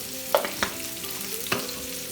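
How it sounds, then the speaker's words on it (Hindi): Onions fry to a light brown in a pan for crispy okra, with a soft continuous sizzle and a few brief stirring clinks, close and quiet. "बिल्कुल लाइट सा ब्राउन करना है हमने प्याज को।"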